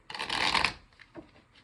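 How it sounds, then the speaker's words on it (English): A deck of tarot cards is bridged and shuffled in one quick, crisp riffle lasting under a second, close and fairly quiet, followed by a few faint taps. "Shuffle, shuffle, shuffle, shuffle, shuffle, shuffle, shuffle, shuffle."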